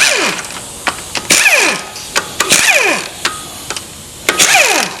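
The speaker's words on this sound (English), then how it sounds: "Okay, let's take the valve body off." Removing the valve body from a Chevy 350 automatic transmission at a transmission shop: loud, rapid ratcheting clicks from a hand tool in repeated bursts, close up with metallic ticks and no talk.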